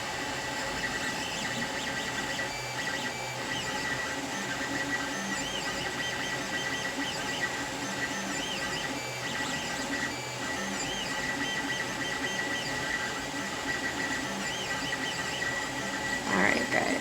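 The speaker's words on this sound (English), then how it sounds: "There you have it, 3D printing." A 3D printer running steadily throughout, its stepper motors whirring and buzzing in a continuous dense mechanical drone, recorded close and loud with no talking.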